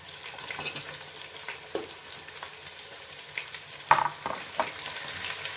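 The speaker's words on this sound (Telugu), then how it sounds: "పచ్చిమిర్చి కొద్దిగా ఫ్రై అయిన తర్వాత ఉల్లిపాయ" Onions and green chillies frying in a pan for Hyderabadi bagara rice, a soft continuous sizzle with occasional stirring scrapes and a couple of brighter clinks near the end, fairly quiet and close, no voices.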